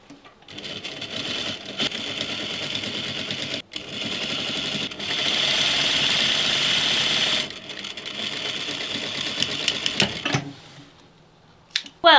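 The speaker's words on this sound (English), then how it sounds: "I'm going to stitch this down now." A sewing machine stitches down the waistband of a Halloween costume, running in fast whirring bursts with short pauses and quieter stretches between, close and fairly loud, no talking.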